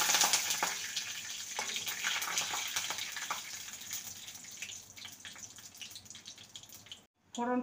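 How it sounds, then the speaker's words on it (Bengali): Black cumin seeds, two dried red chillies and a bay leaf split in two frying in hot oil, a steady bright sizzle with small crackles that runs for several seconds and cuts off briefly near the end. "ফোড়নটাকে কয়েক সেকেন্ড ভেজে নেব"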